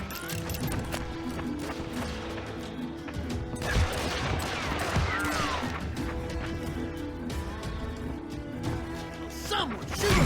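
Western shootout gameplay from Call of Juarez Gunslinger, with bursts of gunfire, crashes and impacts over a busy game soundtrack and spoken game dialogue.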